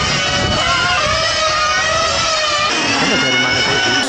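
A 1/8-scale onroad RC car nitro engine idling high and lean during a qualifying heat, producing a sustained buzzing whine with shifting pitch, fairly loud and with no voices.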